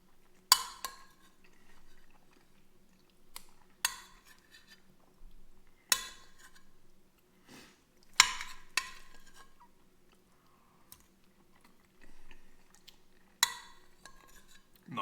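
A metal spoon clinks and scrapes against a dish during a high-protein breakfast, with about eight separate bright clinks spaced irregularly over quiet background hum and faint chewing.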